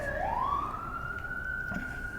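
A single siren wails outside, rising sharply and then holding a steady high tone as it passes at moderate distance, heard alone without talk.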